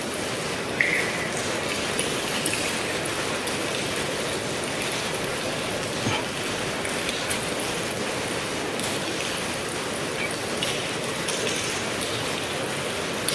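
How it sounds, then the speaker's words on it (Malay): Heavy rain pours steadily and densely outdoors, a continuous hiss of drops striking surfaces for the whole stretch, with no breaks or talk over it. "Hujan lebat ni."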